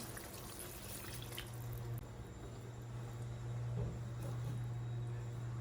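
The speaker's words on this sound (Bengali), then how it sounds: "এখন দিয়ে দিচ্ছি গরম পানি।" A steady stream of hot water pours and trickles into a potato and pointed gourd curry, with a low constant hum underneath and no voices.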